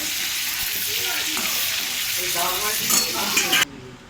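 Fish lightly frying in oil, a loud continuous sizzle with faint scraping as it is turned, cutting off abruptly near the end.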